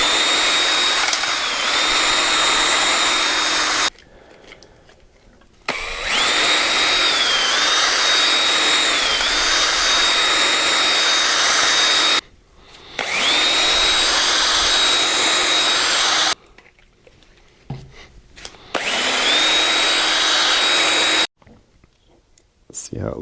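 Power tool honing the bore of a Hitachi EX120-2 excavator valve control block, loud high-pitched whirring in several bursts with pauses, speed shifting within each run.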